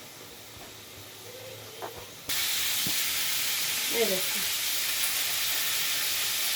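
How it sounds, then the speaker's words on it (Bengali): Potatoes hit hot oil in a pan and start a steady, close sizzle that runs to the end, with a few soft stirring clicks and a short spoken remark near the start. "আলুটাকে আমি ভেজে নিচ্ছি।"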